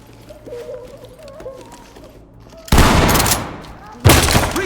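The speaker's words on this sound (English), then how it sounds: "Blast it with a shotgun." A shotgun blasting a locked door in the tactical shooter Ready Or Not, two loud booming blasts about a second apart, each with a crashing tail, following quiet ambient sounds.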